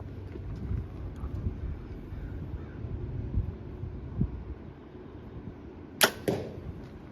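A sharp, crisp thwack of an arrow with an Iron Will broadhead striking a target at 20 yards, followed by a softer second hit, against a low outdoor rumble of wind.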